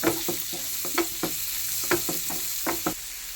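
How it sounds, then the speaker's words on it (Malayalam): Two sliced onions sauté in oil, a soft continuous sizzle broken by repeated sharp scraping strokes of a spatula against the pan, roughly every few tenths of a second. "2 സവാള ഇട്ടുണ്ട് കേട്ടോ. അത് നന്നായിട്ട് വഴറ്റിയെടുക്കുക"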